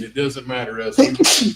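Someone speaks a short phrase, then a quick sharp sneeze bursts out near the end, loud and close, overlapping the tail of the speech.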